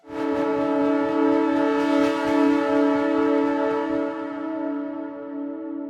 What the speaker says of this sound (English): FX Train.